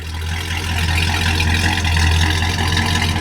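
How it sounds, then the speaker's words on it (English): A 1971 Pontiac Grand Prix with a 400 V8, four-speed and factory dual exhaust idles nearby, a steady, deep, even rumble that holds throughout with no voices. "I'm going to hop out so you can hear the sound of this dual exhaust."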